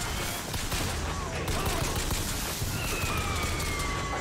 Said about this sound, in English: Well, I'm being shot at.